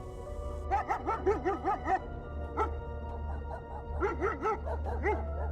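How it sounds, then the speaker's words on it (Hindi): Several dogs bark outside in rain, in repeated bursts, a cluster of quick barks followed by a pause and another flurry, over a steady low rumble. "और कुछ कुत्तों के भौंकने की आवाजें आ रही थी।"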